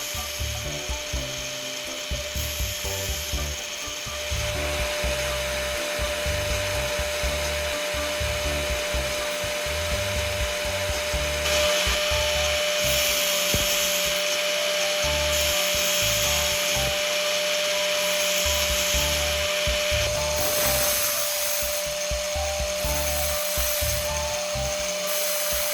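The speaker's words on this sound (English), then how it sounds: "lightly press the drill bit against the grinding wheel while gently rotating the tip" A drill bit pressed lightly against a spinning grinding wheel and slowly rotated, giving a steady abrasive rasp over a constant motor hum that runs the whole time, with the grinding texture shifting as contact changes.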